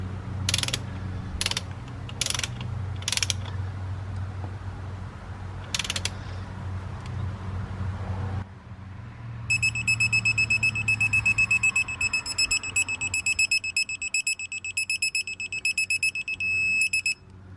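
A wrench ratcheting as it tightens a 12 mm bolt on a Subaru 2.5L engine, several quick close clicking bursts, then a steady electronic beeping tone that pulses near the end.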